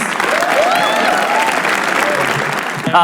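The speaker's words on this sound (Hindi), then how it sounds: "तालियां प्लीज।" Loud, sustained applause from a large audience at a comedy roast show, dense and continuous, with some cheering mixed in throughout.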